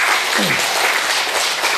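Lecture audience at a talk on natural healing claps loudly and continuously, a thick, close roar of many hands that stays level throughout with no talking.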